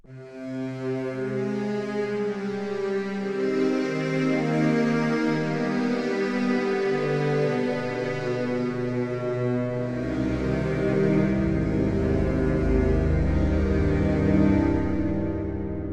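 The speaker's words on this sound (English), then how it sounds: "if I play, we get just the sound of the strings." A lush, sustained sampled string section from a Kontakt hybrid string library holds layered chords that swell and shift slowly, steady and smooth with a deep low register entering later.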